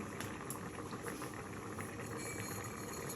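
Cumin seeds sizzle in hot oil in a pan while shukto is being cooked, a steady dense hiss with fine crackle running throughout, close and fairly loud, with no talking.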